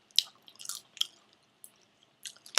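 Close, crisp crunching of garlic parmesan popped corn kernels, several separate bites spread over a couple of seconds with quiet gaps between them and no talking.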